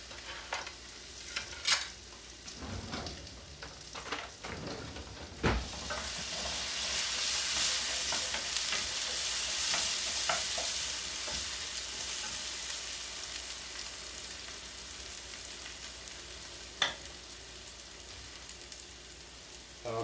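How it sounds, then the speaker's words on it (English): Potatoes fry in hot oil with a steady crackling sizzle while a utensil stirs and scrapes the pan, giving a few sharp knocks over the continuous hiss. "Just throw them in the oil and give them a bit of a stir."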